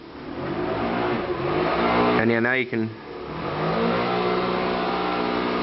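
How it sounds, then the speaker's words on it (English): Loud gasoline engines rev outside in a residential neighborhood, a steady roar with one sharp rising burst midway, heard under a person talking. "It's just a cacophony of obnoxious gasoline engines out there."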